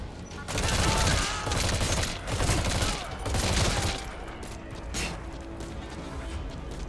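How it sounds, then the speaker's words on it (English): Gunfire in the video game Metal Gear Solid V, bursts of rapid shots and impacts clustered in the first four seconds, loud and dense, then thinning into a quieter rattle of distant fire. "We're still taking fire from somewhere."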